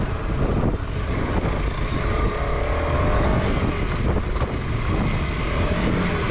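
A KTM ADV250 adventure motorcycle rides a dirt track at Big Rock Dirt Park, its engine a steady loud drone mixed with rough wind buffeting on the microphone, continuous and close throughout.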